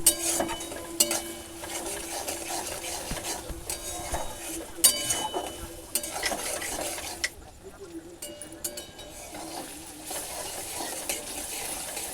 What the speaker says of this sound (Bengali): এটাকে এখন 10 মিনিটের মতন হালকা আঁচে ভাজতে থাকবো।